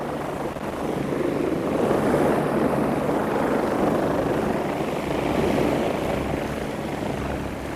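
A helicopter's heavy rotor roar fills the scene continuously, loud and close, with a broad rushing wash and no voices, hovering over open sea above a boat.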